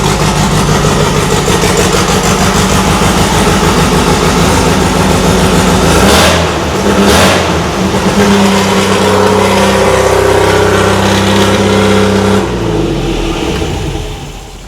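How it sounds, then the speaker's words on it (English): Engine of a 1974½ MGB GT, just fixed after swapped plug leads, runs very loud and close with a rough, pulsing idle, rises through revs midway, then settles back to a lumpy idle with no voices. "It's way loud, but hey, running a whole lot better now."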